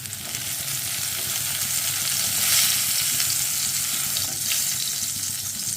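Pointed gourd pieces fry in oil with a loud, steady sizzle and hiss close by, swelling slightly mid-way, with faint stirring and no speech.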